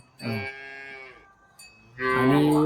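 A large, broad-chested Khillar bull lows twice, close and fairly loud: a short call followed by a longer, deeper one after a brief pause.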